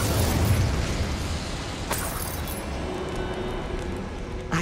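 Incendio fire spell cast in Hogwarts Legacy, a dense, rushing burst of flame with crackling texture and a couple of sharp snaps, loud and close for under five seconds.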